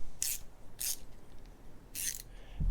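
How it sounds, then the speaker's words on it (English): A 13mm wrench ratcheting on a differential breather fitting under a Toyota 4Runner, three short bursts of metallic clicking separated by pauses, close and distinct. "Grab your 13mm wrench, and we'll snug that down."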